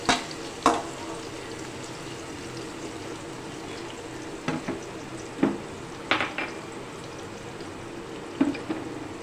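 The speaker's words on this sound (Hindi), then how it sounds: "इसको लाइटली बस हमें इसे ब्राउन करना है, लाइटली सा बस इसको फ्राई करना है।" Chopped garlic lightly frying in oil for an eggplant gravy, a steady low sizzle with several sharp clinks of a utensil against the pan scattered throughout.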